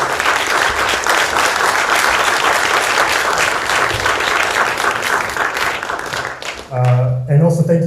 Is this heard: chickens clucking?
no